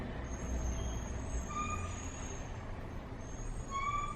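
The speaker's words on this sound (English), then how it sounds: "There's a very loud truck in my street right now" A heavy truck rumbles past nearby with a continuous low roar, while thin high squeals from its brakes rise and fade.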